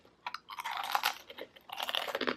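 Crunchy bites and chewing of Chinese food in a close-miked mukbang ASMR setting, two bursts of crisp, wet crunching separated by a brief pause, with no talking.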